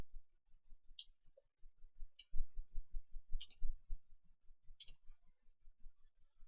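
Computer mouse clicks during Excel spreadsheet work, a series of sharp, close, quiet clicks spaced a second or so apart, with soft low tapping between them and no talking.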